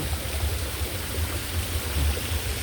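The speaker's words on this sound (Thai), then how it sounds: "เสียงน้ำนะคะ" Water flows and splashes steadily at an ancient pond more than a century old, in an evening outdoor setting. It is a dense, continuous rushing wash with a rumbling low end and no voices.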